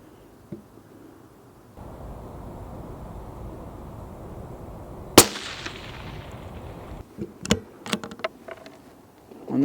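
A CZ 457 thumbhole laminate rifle in 17 HMR fires one sharp, loud crack midway, followed by a cluster of fainter clicks and knocks of handling and single-loading the next round, with no talk.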